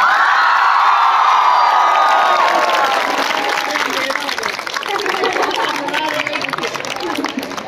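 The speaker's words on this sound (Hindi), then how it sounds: "बच्चों जोरदार तालियां" Children at an Urdu school farewell ceremony in Malegaon cheer and shout loudly alongside clapping, a dense, excited crowd noise that stays strong throughout and eases slightly toward the end.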